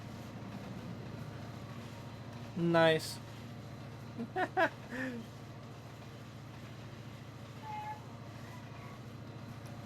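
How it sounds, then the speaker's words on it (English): A simulated train in the railroad game Trainz 22 passes on the Milton Valley Railroad, heard as a steady low rumbling drone under brief bits of a voice. "Oh my gosh, that's a train."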